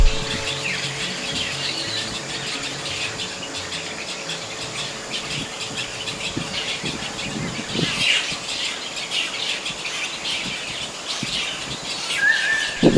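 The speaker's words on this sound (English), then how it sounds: "there's one hungry chick there that's going to pester its parent bird until it gets a feed" Birds and insects fill a lakeside forest with a steady bed of high chirps and trills, a hungry chick's calls to its parent for food rising in brief sharper bursts, fairly faint and without any talk.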